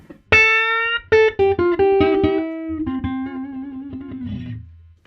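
Electric guitar on the neck pickup through a hand-wired Fender Princeton Reverb amp: a few clean plucked notes and a strummed chord ring out, then one sustained note fades alone over about five seconds.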